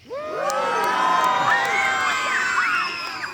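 A large group of children and young people at a summer camp year-end gathering cheers and whoops loudly for several seconds, high shrieking voices overlapping in a sustained roar.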